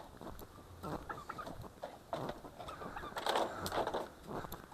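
Turkeys and chickens on a pet farm cluck and murmur close by in short overlapping bursts, fairly quiet, with scattered rustling in the background.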